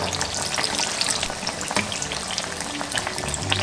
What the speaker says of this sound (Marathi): तेल चांगलं गरम असलंच पाहिजे तेव्हाच अशी बटाट्याची भजी छान फुगतात